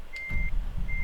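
Reversing alarm of a truck in Euro Truck Simulator 2, a thin steady beep that sounds twice across about a second, with a low engine rumble rising underneath, no speech.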